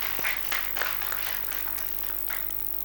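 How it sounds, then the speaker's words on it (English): An audience claps at the launch of the Marwa Kisumu solidarity health cover, a steady patter of scattered hand claps continuing for a few seconds with no talking. "let us clap for this county."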